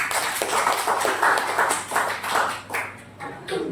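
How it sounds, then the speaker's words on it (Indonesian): Bursts of clapping from a group in a university classroom, uneven and crisp, filling the space for a few seconds with no talking over it. "Tepuk tangan buat kita semua."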